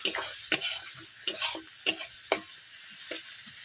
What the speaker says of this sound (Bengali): এইভাবে আমি আদা রসুনগুলোকে আমি ভেজে নিচ্ছি